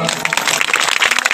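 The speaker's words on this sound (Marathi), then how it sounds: "त्यांचं स्वागत आपण करू सर्वांनी टाळी वाजवा" An audience claps together to welcome Lord Rama during a staged Ram–Sita wedding play from the Ram Katha, a steady busy patter of many hands filling the space throughout.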